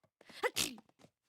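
A single sharp sneeze bursts out, close and fairly loud, with a quick breathy intake before it and small noises after.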